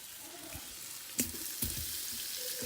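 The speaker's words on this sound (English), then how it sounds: "Let it start sizzling up" Floured beef pieces sizzle in a hot Instant Pot, giving a steady, fairly quiet frying hiss with two brief clanks partway through.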